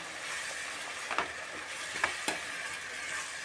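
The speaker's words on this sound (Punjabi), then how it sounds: "ਮਸਾਲੇ ਨੂੰ ਆਪਾਂ ਲਗਾਤਾਰ ਚਲਾਉਂਦੇ ਹੋਏ ਮਿਕਸ ਕਰਦੇ ਹਾਂ" Masala for a carrot, pea and potato curry is stirred as it fries in a pan, giving a soft, steady sizzle with a few brief spoon scrapes against the metal, fairly quiet and without voices.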